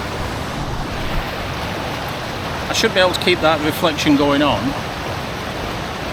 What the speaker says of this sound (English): got the swirls of water just going on here, and the main waterfall coming down there